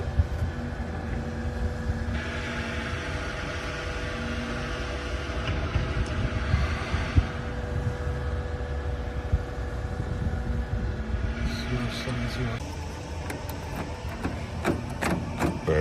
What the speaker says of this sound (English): I just want to cut the test key first.